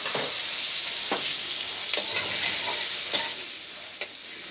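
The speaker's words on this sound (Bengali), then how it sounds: "আর এখানে চিংড়ি মাছগুলো একটু ভেজে নিব," Shrimp fry lightly in a pan with a steady, bright hiss and sizzle. A few sharp clicks and taps of a utensil stand out against it, and there are no voices.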